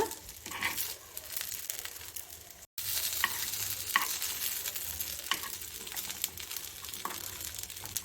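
Rava paddu frying in oil in a paddu pan and being turned over, continuous sizzle with several sharp scraping and clicking touches from the turning, close and fairly quiet.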